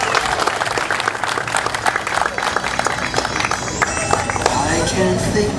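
Applause from an audience at a Christmas lantern making contest, a dense burst of clapping filling the space up close, with some crowd noise and voices mixed in.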